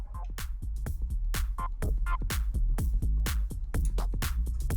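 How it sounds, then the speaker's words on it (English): Music driven hard into analog tape saturation distortion during a mastering session plays as a dense, loud, thick-sounding beat with punchy, regular drum hits. No one speaks over it. "This is what analog distortion sounds like. This is what tape distortion sounds like."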